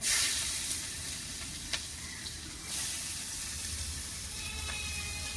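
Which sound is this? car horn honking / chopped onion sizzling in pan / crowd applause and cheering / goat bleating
chopped onion sizzling in pan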